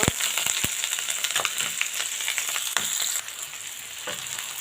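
Chopped onion, green chili and garlic frying in hot oil, a loud, steady sizzle with sharp spatula clicks and scrapes at the start that ease into a softer crackle.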